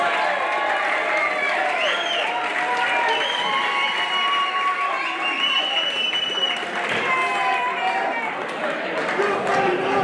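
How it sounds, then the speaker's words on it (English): Crowd at a Cage Conflict MMA event applauds both fighters after the bout, a steady wash of clapping and cheering under a loud announcer's voice throughout. "please hold an applause for both fighters"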